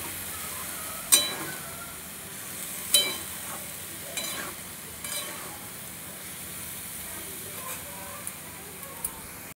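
Papaya and peas are sautéed in a pan with a quiet background sizzle, broken by several sharp spoon clanks and scrapes against the pan at irregular intervals.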